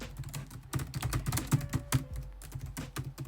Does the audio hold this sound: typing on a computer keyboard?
yes